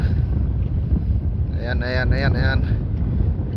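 Strong seaside wind roars and buffets the microphone at a fishermen's sheltering spot, a loud, steady rushing that covers the whole stretch, with a short voice-like tone rising briefly in the middle.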